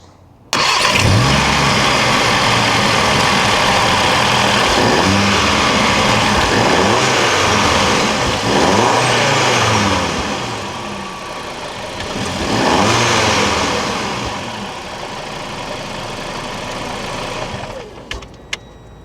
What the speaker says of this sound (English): get the car started, do a couple of revs so we've got a before sound